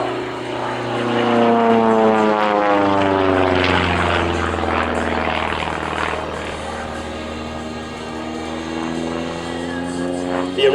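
A Pitts S-1D Special biplane's engine drones steadily through an aerobatic display at Shuttleworth, the pitch slowly rising and falling as the aircraft maneuvers, moderately loud and continuous, with a commentator speaking over it.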